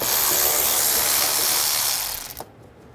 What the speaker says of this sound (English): we're going to take these screws out. 8mm socket.